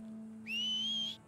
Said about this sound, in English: Oh, I did not mean to whistle into my horse.